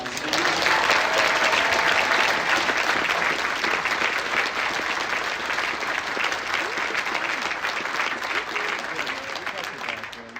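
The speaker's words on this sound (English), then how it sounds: "please, a big round of applause for our music educators on stage" A theater crowd at Tuba Christmas in Rochester's Eastman Theatre gives a sustained round of applause for the music educators on stage. The clapping is dense and loud throughout, with cheering voices mixed in and a slight easing toward the end.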